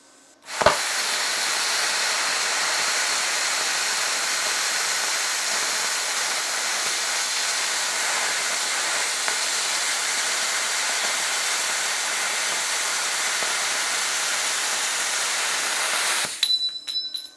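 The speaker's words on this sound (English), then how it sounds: "The other nice thing about the plasma cutter is it will do aluminum too." A plasma cutter slicing through metal during a Porsche 356 brake light bracket build: a steady, loud, broadband hiss and roar held for about sixteen seconds, opening and closing with sharp clicks as the arc starts and stops.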